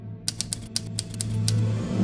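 Crisp keyboard keystrokes tapped in a quick, uneven rhythm, about ten distinct clicks close up, from the typing-controlled real-time strategy game Touch Type Tale, over a low steady hum with no voices.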